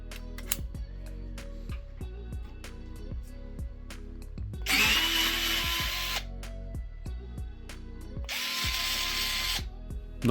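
A HOTO 3.6V Pro cordless electric screwdriver drives screws in bursts, its small motor whirring in short pulses with ratcheting clicks, plus two longer, louder high-pitched runs near and clear with no talking.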